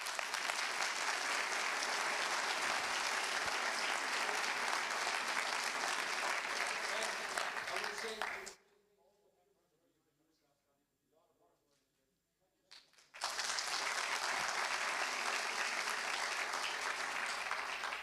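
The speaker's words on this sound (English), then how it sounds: "I'll let you give them a more warm applause." Warm, sustained applause from an audience at a university graduation ceremony, loud and dense. It drops off abruptly for a few seconds of near quiet and then resumes at full strength.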